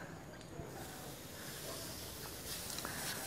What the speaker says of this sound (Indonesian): Semprotkan di bawah daun sampai merata